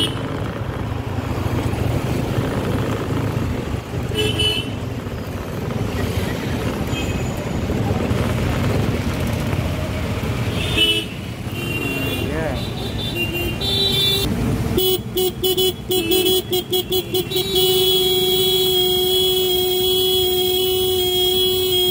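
Busy street traffic in Bhubaneswar rumbles on with engines idling and passing, then near the end a cluster of car horns honks in repeated short and long blasts, loud and close, with some talking underneath.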